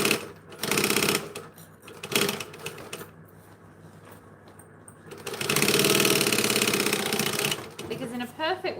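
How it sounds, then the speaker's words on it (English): A sewing machine stitches through foam at an eighth-inch seam, running in loud rapid bursts with short pauses, while a person talks over and between the runs. "So we're going to stitch it 1/8 of an inch."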